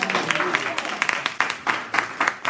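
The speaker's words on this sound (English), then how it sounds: "Give God a good hand clap if you got" A church congregation clapping hands in praise, a dense irregular patter of many claps rising and falling in bursts, mixed with crowd voices and talk over it.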